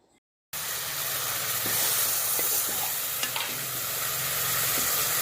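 Onion masala mixture hits hot oil in a pan after a brief silence and fries with a steady, loud sizzle, broken by occasional spoon scrapes and clicks as it is stirred; no one talks.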